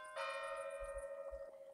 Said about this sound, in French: J'entends maintenant le son des cloches qui sonnent.